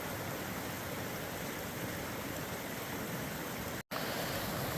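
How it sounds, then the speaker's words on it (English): Wright Creek rushing along the Pacific Crest Trail, a steady, close, broadband wash of flowing water filling the whole clip, with only a brief dropout near the end. "Okay, this is Wright Creek."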